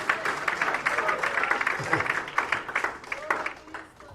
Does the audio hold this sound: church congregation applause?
yes